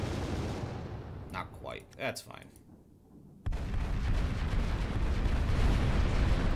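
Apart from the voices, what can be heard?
kinetic cannons firing in the video game Final Theory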